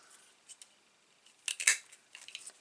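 Scissors snip out a small paper star in a few quiet, close cuts, with a sharper burst of snipping near the middle and no talking.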